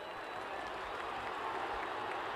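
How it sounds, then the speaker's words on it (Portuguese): Fluminense supporters at a 1994 Campeonato Carioca deciding match against Vasco, a distant, steady roar of crowd noise filling a football stadium, broad and unbroken with no distinct chant rhythm standing out. "o Luiz Antônio pede o grito da torcida tricolor"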